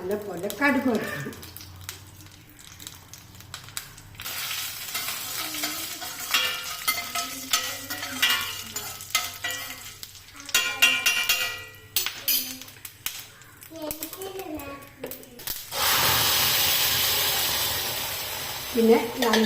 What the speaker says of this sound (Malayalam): എല്ലാം ഇട്ട് നല്ലപോലെ കടുക് വറുക്കണം